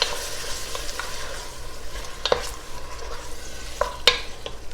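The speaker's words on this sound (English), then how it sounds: "we're going to stir that meat that's been sitting and cooking in the olive oil" Meat frying in olive oil is stirred with a wooden spatula, a steady close sizzle running throughout with a few sharp scraping knocks of the spatula against the pan.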